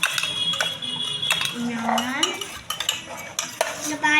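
Homemade slime mixture stirred in a bowl, with close scraping and clinking of a utensil against the sides in irregular strokes, plus a few squelchy, gloopy sweeps.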